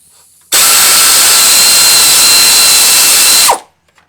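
Power tool tightening an alternator bolt on a 1997 Toyota Camry V6, a loud, close, continuous high-pitched whir for about three seconds that cuts in abruptly and winds down at the end.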